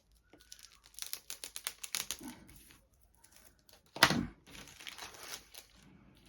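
Soft plastic bag holding 1:35 scale WWII model kit parts being handled and crinkled, a run of close crisp rustles and crackles with one sharper loud crunch midway, no talking.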